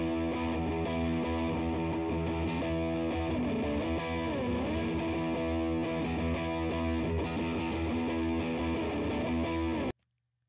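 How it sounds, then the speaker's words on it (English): Heavily distorted electric guitar recorded close with a Shure SM57 dynamic microphone, playing sustained, dense chords for about ten seconds before cutting off abruptly. "And the SM57 on distorted guitar."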